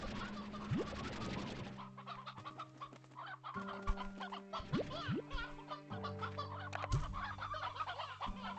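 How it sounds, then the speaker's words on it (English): Chickens clucking in a coop in the video game Slime Rancher 2, with steady overlapping clucks and rising squawks from many birds, alone without talk. "There's way too many chickens."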